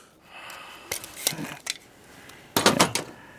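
A coughing patient breathing during a doctor's examination, with a few sharp, close breaths and sniffs followed by a longer, rougher breath near the end.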